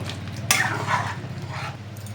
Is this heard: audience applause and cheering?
no